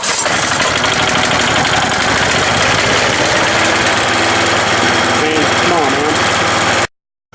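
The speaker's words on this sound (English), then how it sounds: "Just turn it on, choke it, A little bit of throttle. First pull." An Echo small engine runs right after starting on the first pull, a loud, close, steady buzzing drone that stops abruptly at the end.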